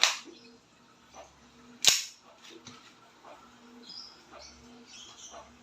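A WE 2011 Hi-Capa 7.0 Dragon airsoft pistol fires two sharp, close cracks, the second louder, with quiet rustling and faint background noise between shots.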